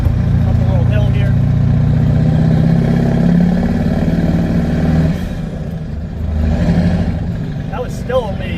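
Caterpillar 3208T turbo diesel in a medium-duty truck pulls up a small hill, its deep, steady engine drone loud and close for about five seconds before easing off, with someone talking over it.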